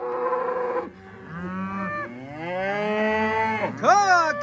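Cattle on an upstate New York farm moo repeatedly, several long drawn-out calls close by with brief gaps between them, no talking over them.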